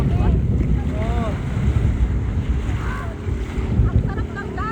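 Sea waves and wind noise rushing past during a banana boat ride, a steady loud wash of water and wind, with people shouting and chattering over it.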